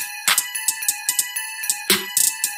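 Woodpecker bells in a music production playing a simple repeating three-note arpeggio, bright metallic tones with sharp clicky attacks in a steady quick rhythm, close and dry.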